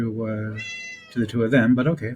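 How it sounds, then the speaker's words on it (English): A cat meows once, clear and fairly close, in a drawn-out rising cry before a person starts talking over the background. "so you can hear the cat in the background"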